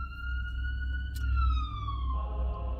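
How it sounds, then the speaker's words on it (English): Ambulance passing through the city, its siren wailing as a steady tone that slowly drops in pitch as it goes by, over low traffic rumble. "Sorry for the ambulance,"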